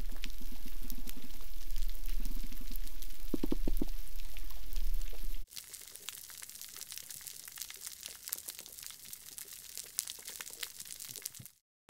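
Fish on a Cuban coral reef thump underwater as their swim bladders reverberate: low, repeated thuds over a busy crackling background for several seconds, then the scene drops to sparse snapping and clicking.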